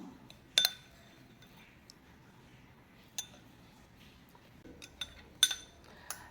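A spoon clinks against a bowl while banana and rose water are mixed into a face pack, with a few sharp isolated taps spaced out over quiet background.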